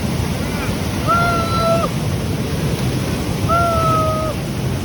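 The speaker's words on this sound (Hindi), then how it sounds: "आप छत्तीसगढ़ अगर आप आते हो तो इस स्थान पर आएँ और इस वाटरफॉल को ज़रूर देखें।" A waterfall at Mainpat in Chhattisgarh gives off a steady, broad rushing roar that never lets up. Two drawn-out whistling tones rise above it briefly, and no one speaks.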